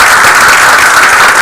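A dense, loud round of applause fills a council meeting room, many hands clapping continuously and evenly.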